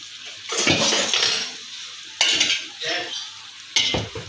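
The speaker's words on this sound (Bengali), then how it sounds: "এটা এবার আমি নাড়াচাড়া করলাম হ্যাঁ নাড়াচা করে একটু" A utensil stirs broken rice with Malabar spinach in a pot, making three sweeping bursts of scraping and clattering against the metal over a soft background sizzle. The sound is close and moderately loud.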